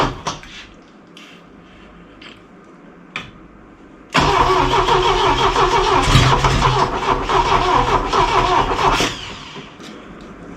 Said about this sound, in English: I hope it spins over with the less viscous oil.